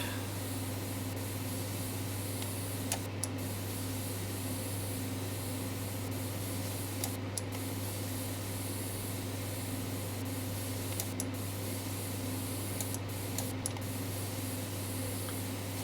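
Compressed air spraying to clean out a very dirty computer, a continuous even hiss over a steady low hum, with a few brief sharp breaks and no talking.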